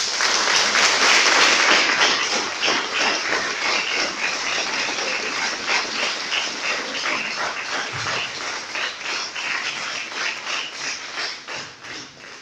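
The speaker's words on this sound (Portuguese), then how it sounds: "Vamos aplaudir ao Senhor." A church congregation applauds during a worship service, dense sustained clapping that starts loud and gradually eases while continuing steadily throughout.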